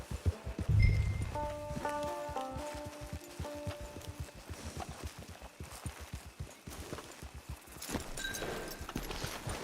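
Horse hooves clip-clopping in the Red Dead Online video game, a steady walking rhythm of close, distinct hoof strikes throughout, with a few faint tonal notes early on and light rustling behind.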